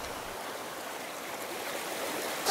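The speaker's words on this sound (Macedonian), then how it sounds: "Зема вода од реката." River water flows in a steady, close rushing wash while a water sample is drawn from it, with no voices.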